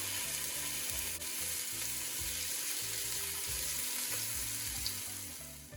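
Chopped onion fries in a little butter and olive oil, giving a steady close sizzle throughout, with faint background music underneath and no speech.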